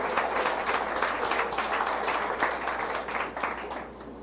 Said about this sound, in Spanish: De un aplauso al Señor Jesús